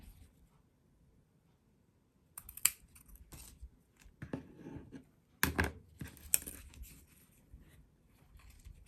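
Paper is cut with scissors for a handmade note card holder craft, giving quiet, close snipping and crisp rustling in a few separate bursts with pauses between them.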